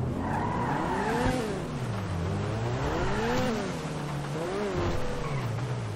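A school bus in Grand Theft Auto V revs its engine in rising and falling swells, the pitch climbing and dropping repeatedly with a faint tire squeal, loud and steady throughout without talk.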